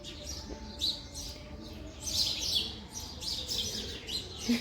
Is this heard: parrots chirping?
yes